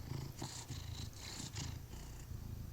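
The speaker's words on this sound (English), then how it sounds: "We're gonna pet the cat." A cat purrs steadily while being petted in the video game Cabernet, a soft, rhythmic rumbling purr heard alone at low volume.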